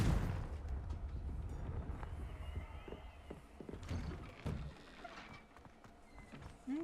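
A Confringo blasting spell cast in a Wizarding World video game bursts out of a busy, noisy game mix, with rumbling low-end impacts and crackling transients sitting among steady background effects.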